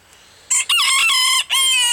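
A bantam rooster crows close by, a loud, brief cock-a-doodle-doo breaking into two strained phrases after a quiet start.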